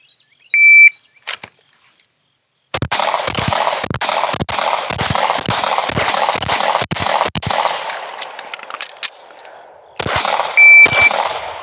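An HK VP9 A1 pistol fired during a timed shooting drill outdoors, with a start beep, then a fast string of loud, close shots with a brief reload pause, and another beep at the end.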